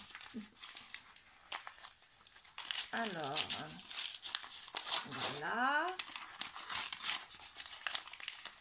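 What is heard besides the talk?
tearing and crumpling advent calendar paper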